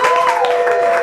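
Short, loud clapping from a poetry salon audience at the AWP conference, dense applause with a sustained whistle or tone running through it.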